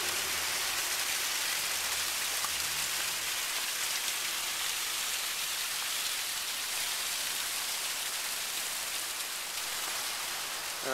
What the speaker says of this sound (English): And here we have the waterfall.